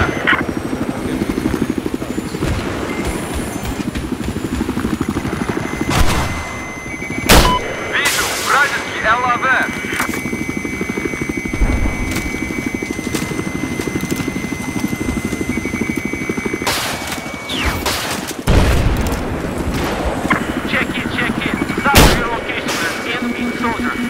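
Gunfire crackles through a Battlefield 4 conquest match on a snowy map: scattered loud shots and bursts ring out over a steady drone of helicopters and vehicles, with occasional voices underneath.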